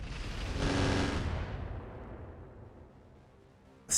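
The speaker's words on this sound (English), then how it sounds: "the Hornet is firing on the Maxim" Weapon fire from a Hornet mech striking a Maxim in the RogueTech mech combat game: a loud, dense burst of blasts and booming impacts that swells early, then decays into a long rumbling tail, with a sharp hit at the end.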